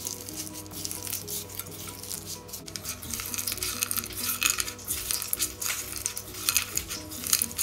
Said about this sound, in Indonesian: Masukkan teri dan kacang tanah, diaduk sampai rata.